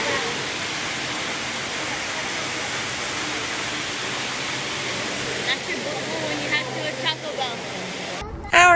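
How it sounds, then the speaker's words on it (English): Underground waterfall inside a cave, a steady, dense roar of falling water filling the space at constant loudness, with faint indistinct voices and footsteps surfacing near the end. "is a waterfall underground"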